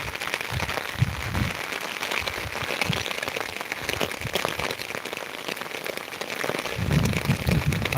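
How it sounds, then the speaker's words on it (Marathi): Heavy rain pours steadily over flooded farm fields near Beed, a dense continuous hiss of drops striking water and surfaces, with occasional low thumps nearby. "आता पाऊस आणखीन वाढलेला आहे बघा"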